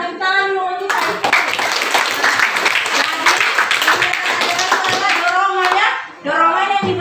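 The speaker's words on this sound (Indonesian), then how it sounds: "Oke, ya tepuk tangan dulu untuk Saiful" A classroom of pupils claps for a classmate named Saiful, a dense burst of close hand clapping running for several seconds, with a teacher speaking briefly before and after.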